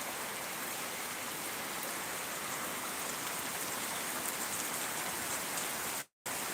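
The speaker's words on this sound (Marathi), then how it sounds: "पाऊससुद्धा सुरू झाला आहे" Heavy, steady rain pours down over farm fields planted with marigold and guava trees, a dense even hiss close by with no break, briefly cutting out near the end.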